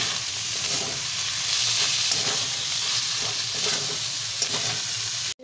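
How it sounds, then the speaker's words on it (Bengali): Fish kachuri filling stirred in a hot pan with chopped green chili, a close continuous sizzle and hiss with soft scraping strokes, cut off abruptly at the end. "তো সব কিছুকে একটু ভালো করে নাড়াচাড়া করবো"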